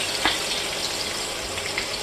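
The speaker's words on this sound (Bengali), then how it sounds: "এবার কাঁটাগুলোকে আমি তেলের উপরে দিয়ে দিচ্ছি, দিয়ে একটু ভালো করে ভাজা ভাজা করব, কড়া করে একটু ভাজতে হবে।" Bhetki fish bones fry crisp in hot oil. A continuous close hiss and crackle is broken by one brief sharper pop near the start.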